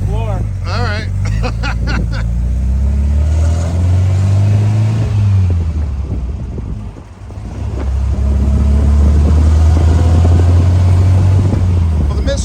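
Rare Volkswagen kit car's air-cooled engine drones loudly and steadily from inside the open car while driving, its pitch rising and falling with gear changes, with wind buffeting the microphone and voices talking over it.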